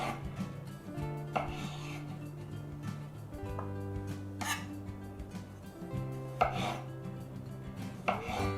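Knife chopping and dicing cherry tomatoes on a cutting board for bruschetta, a series of irregular close taps and scrapes over a quiet kitchen background, with no talking.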